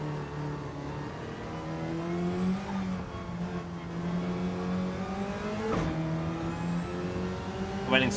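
Race car engine in Gran Turismo 7 revving hard under acceleration, its steady whining tone climbing through the gears with a brief dip at a shift, loud and continuous throughout.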